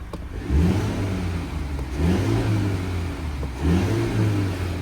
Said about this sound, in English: we'll give it a few revs